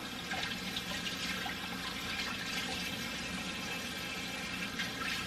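Water from a tap runs in a steady stream into a sink while vegetables are rinsed. It is a constant, moderately close splashing for the whole stretch, with no talking.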